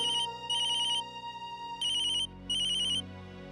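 A phone ringtone plays in loud repeating bursts of a bright electronic tone, four ring phrases with short gaps, close and clear with no talking.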